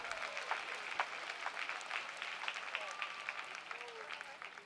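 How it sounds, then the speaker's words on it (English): Audience applause at a December commencement ceremony, a steady wash of many hands clapping at moderate distance, sustained and even throughout without a break. "Let's give both of our student leaders another round of applause."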